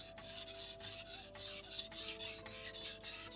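A knife is drawn across a watered whetstone in repeated soft rasping strokes that keep a steady back-and-forth rhythm. The sound is close and fairly quiet, with no talking.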